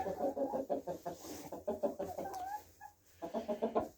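Several chickens cluck in quick, rhythmic bursts close by, with a brief lull before the clucking picks up again.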